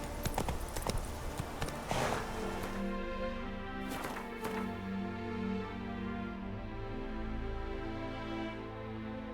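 Hooves of the horse Roach in The Witcher 3 clatter in quick, dense clip-clop at the start, then thin out to a few scattered steps as steady game music carries on underneath.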